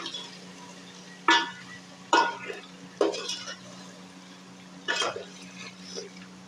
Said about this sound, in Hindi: ये तमाम मसाले डाल के सबसे पहले हम इसको कर लेंगे जी मिक्स